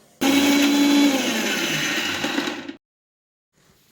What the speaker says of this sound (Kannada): ಫ್ರೈ ಮಾಡ್ಕೊಂಡಿದ್ವಲ್ಲ ಮೂರನ್ನು ಮಿಕ್ಸಿಗೆ ಹಾಕ್ಕೊಂಡು ಪೌಡ್ರ್ ಮಾಡ್ಕೊಳ್ಳೋಣ